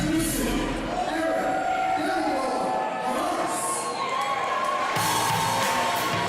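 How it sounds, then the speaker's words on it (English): A crowd at an amateur MMA fight cheers and whoops in a large hall, a sustained roar with shouts rising over it, while a voice talks over the noise. "listen to the crowd as they cheer for the hometown hero, Diar"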